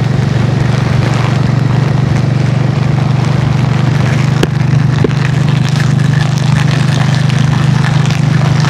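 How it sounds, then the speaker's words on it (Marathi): Heavy rain roars steadily and loudly throughout while riding along a road, a broadband wash over a constant low vehicle or wind drone, with a brief knock or two partway through. "काय मजबूत पाऊस आहे बघा"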